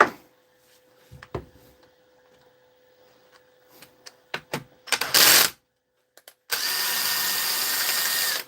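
A power drill backing out four screws on a repair job, heard as short bursts of motor whir and clicks, then a sustained loud run of the drill near the end.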